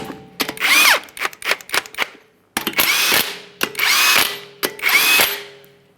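An impact gun snugs up the wheel lug nuts on a 2007–2013 Acura MDX in short, loud, close bursts, roughly eight of them, separated by brief pauses, with no talk over them.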